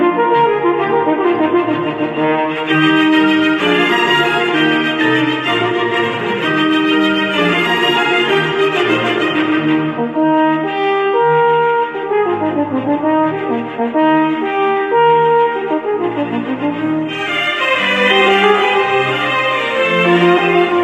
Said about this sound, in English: this impressive instrument is called a French horn